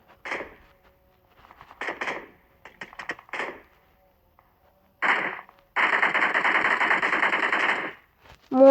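Gunfire in the PUBG video game comes as short rattling bursts of automatic shots separated by silence, then a longer sustained volley of rapid fire, loud and close, with no one talking.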